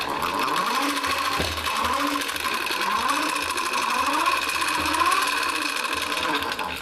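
A small hand-cranked cutaway model of an 80cc engine whirs with a steady, rhythmic mechanical cycling, close by and continuous.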